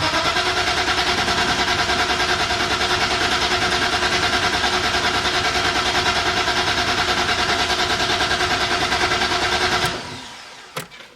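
Small Chinese-made engine running at a steady, loud idle with a rapid even chatter for about ten seconds, then cutting out abruptly, followed by a couple of faint clicks.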